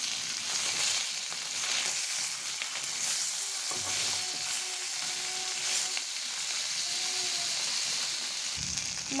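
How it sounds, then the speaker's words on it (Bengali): Tilapia pieces frying in oil in a wok, a steady close sizzle and hiss that runs throughout with faint clinks now and then. "বাকি মাছটা আমি ভাজতে দিয়ে দিয়েছি।"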